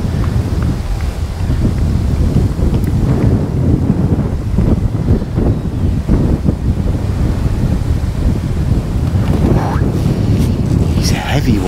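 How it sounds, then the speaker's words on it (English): Strong wind buffeting the microphone at Barston Lakes fishery during a match, a constant loud roar and rumble with gusty swells throughout, a voice briefly audible beneath it. "that wind's blowing me bloody landing net."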